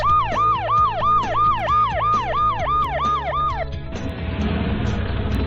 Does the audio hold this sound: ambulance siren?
yes